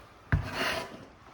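A steel trowel lays silk decorative plaster onto a wall, giving one short knock followed by a soft smeared swish that fades within a second, heard alone and close.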